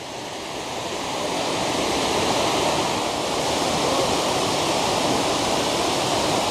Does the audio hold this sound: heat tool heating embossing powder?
no